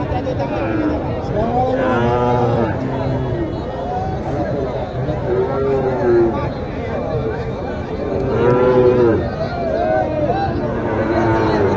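A heifer moos several times at a cattle market, long drawn-out lowing calls close by, with people talking in the background.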